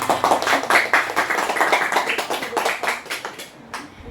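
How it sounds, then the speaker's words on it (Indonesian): Participants in a group counseling practicum session clap for themselves, a small group's brisk, close applause that carries on steadily and then tapers toward the end. "Tepuk tangan."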